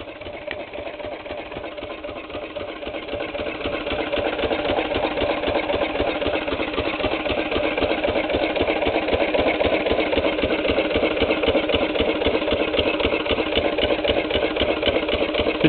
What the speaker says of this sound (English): This is a GM90 Sajet that I got from Mike 2 years ago, and it's been sitting here. It started the first crank.